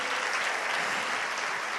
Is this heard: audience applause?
yes